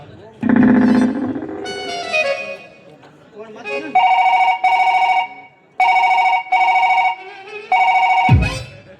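A phone ringtone plays in loud, close repeated electronic bursts with short gaps, following some brief talk.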